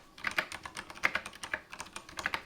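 Rapid typing on a computer keyboard at a home office desk, a quick irregular patter of light key clicks, close and moderately quiet with no talking.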